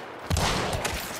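A gunshot in Hunt: Showdown: a sharp, loud blast followed by a rumbling tail and a second fainter report.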